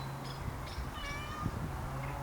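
A house cat meows several times in a garage workshop during a vintage bicycle restoration, short distinct mews spread across the moment over a low steady hum, fairly close and clear.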